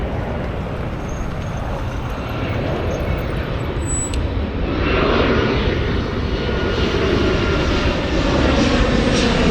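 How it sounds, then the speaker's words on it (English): A jet airplane flies overhead near a motel, its steady broadband roar swelling louder through the second half and holding close and strong, with no talking. "we got another jet coming in"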